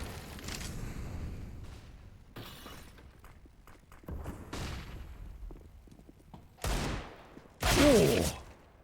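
Gunshots in a competitive first-person shooter esports match, a single-tap kill followed by a trade, heard as a few sharp, loud bursts near the end, with game ambience and faint caster talk earlier.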